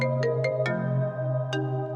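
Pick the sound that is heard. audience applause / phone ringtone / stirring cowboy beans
phone ringtone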